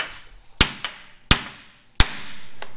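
Hammer blows on a vehicle axle being knocked loose for removal, three sharp metallic strikes spaced well apart with faint ringing between them, close and loud with no voices.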